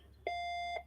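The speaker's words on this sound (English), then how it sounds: "that beep is my printer" A home printer giving a single clean electronic beep, a steady tone lasting about half a second, fairly faint against a quiet room with no talking.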